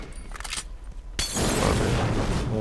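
A bomb goes off in a multiplayer match of The Last of Us: a sudden loud broadband burst lands about a second in and gives way to a dense, sustained roar that fills the rest of the moment.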